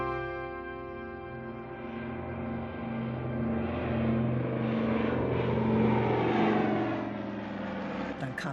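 Cargo aircraft of the Berlin Airlift fly over with a steady droning propeller engine hum that swells and holds for several seconds, with voices faintly under it.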